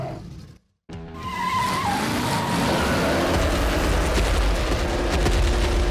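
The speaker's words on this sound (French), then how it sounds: "Le plus urgent, C'est de faire crisser les pneus." Cartoon car tires squeal in a sharp, rising screech right after a brief silence, then give way to a loud, sustained roaring rush of the vehicle speeding off.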